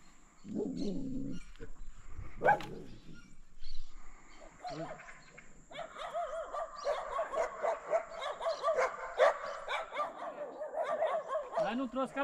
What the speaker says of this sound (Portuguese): Não adianta ficar latindo, não.